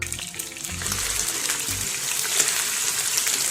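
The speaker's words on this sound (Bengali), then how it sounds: "এবার মাছগুলোকে প্রথমে একটু ভাজা বসিয়ে দিই" Small kachki fish coated with salt and turmeric fry in a pan, producing a loud, steady sizzling hiss that builds slightly, with a few faint knocks near the start.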